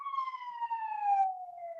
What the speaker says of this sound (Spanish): Permítame que aquí va una sirena.